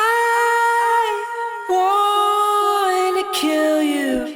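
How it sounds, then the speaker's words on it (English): A sung vocal runs through a delay effect chain in Ableton, with sustained tonal notes and echoing repeats trailing each phrase, loud and upfront with no other sounds. "if we turn on this delay chain right here and then boost this delay up"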